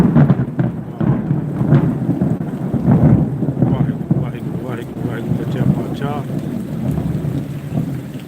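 Deep thunder rumbles through a heavy rainstorm, with wind buffeting the microphone and voices talking nearby.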